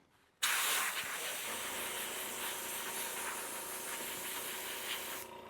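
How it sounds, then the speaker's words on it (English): A sudden burst of paint spray hissing onto a skating costume starts after a brief quiet moment and continues steadily and fairly close, then cuts off at the end. "I like to get a paper towel and spray it on"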